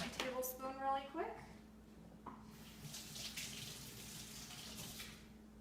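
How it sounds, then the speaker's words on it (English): Tap water runs into a sink while a tablespoon is rinsed out in a home kitchen, a steady soft splashing stream with a brief voice at the start. "Gotta wash out my tablespoon really quick."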